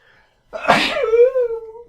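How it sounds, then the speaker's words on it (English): A single loud, close sneeze bursts out after a brief silence, trailing into a voiced tail. "I'm about to sneeze. Get ready."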